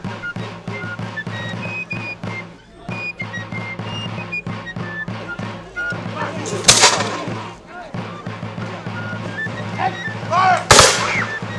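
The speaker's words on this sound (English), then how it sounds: "So we will be advancing and retreating, firing upon each other." Muskets go off during a historical reenactment skirmish, with two sharp, loud reports standing out from a steady background of crowd murmur and talk.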